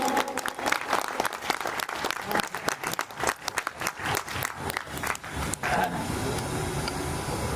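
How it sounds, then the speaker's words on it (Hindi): Loud, dense clapping from an audience at a Louis Braille Day ceremony at a school for the blind, irregular bursts of hand claps filling the room before tapering into a steadier wash near the end. "एक बार जोरदार तालियां होनी चाहिए मित्रों"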